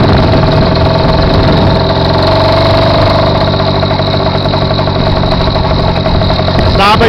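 A 49cc motorized bicycle engine runs steadily and loudly, a continuous mid-range engine drone with a brief rise near the end; voices may be faintly present under the engine.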